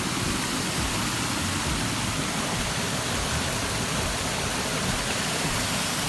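Water pours steadily at Chatwarin waterfall in Sungai Padi, Narathiwat, making a dense, unbroken rushing roar that holds at an even level throughout, with no voices.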